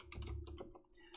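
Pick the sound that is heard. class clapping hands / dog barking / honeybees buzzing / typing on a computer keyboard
typing on a computer keyboard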